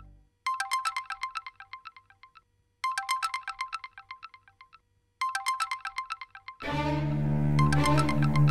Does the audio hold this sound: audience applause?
no